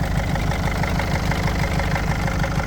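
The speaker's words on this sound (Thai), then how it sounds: "นี่นะฮะเครื่องยนต์ดีเซลนะครับ" A 2003 Mercedes-Benz Vito 112 CDI turbo diesel van engine idles steadily up close, a low, even rumble with a faint rhythmic knock that holds constant throughout.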